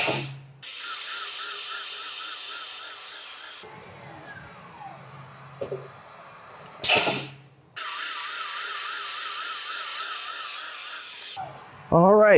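Valve seat cutting machine working a Subaru WRX cylinder head, its spindle running and oscillating in a warbling high whine, stopping and restarting with a loud clunk between runs, close by with someone talking over it.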